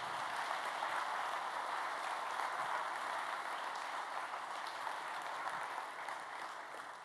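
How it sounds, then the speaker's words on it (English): Sustained applause from a conference audience at a security event's closing ceremony, a dense, even wash of many hands clapping across the whole span, tapering slightly near the end. "He deserves to be on stage right now and he deserves your applause."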